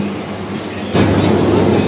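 Howrah to Bandel suburban local train running, a loud, steady rumble and roar heard from inside the carriage that swells a little louder partway through.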